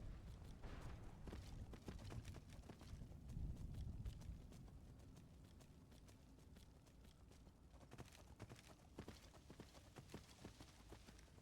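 A horse's hooves clip-clop steadily and quickly across ground in Skyrim, with a fast, even rhythm of faint, close-up hoofbeats that continues throughout with no talking.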